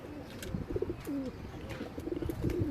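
Soft, low cooing from Teddy and Rampuri pigeons repeats in a gentle warbling rhythm, close by, with a faint background murmur and occasional light rustling.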